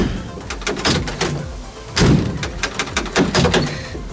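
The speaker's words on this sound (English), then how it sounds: "This mechanism is a late model with an early model door, well, very, very early model door handle, being that it's from a 1956." Repeated clunks, rattles and thumps as the door handle mechanism is worked on a 1956 chop-top VW Beetle. The early-model handle sits on a late-model mechanism, and the sounds come close and in irregular bursts.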